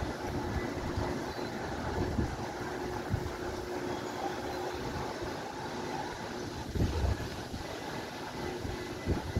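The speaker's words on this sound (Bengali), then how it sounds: "বৃষ্টিটা কমই হচ্ছে, হাওয়াটা বেশি দিচ্ছে, বৃষ্টি খুব ছিটেফোঁটা পড়ছে" Strong monsoon wind with light, scattered rain blows steadily in Mumbai, a continuous rushing roar with occasional louder gusts.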